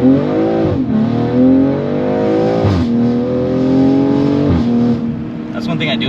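A 2020 BMW M340i engine revs hard and loud, its pitch climbing and then dropping sharply at each of several quick upshifts, with the engine note running steadily close by throughout.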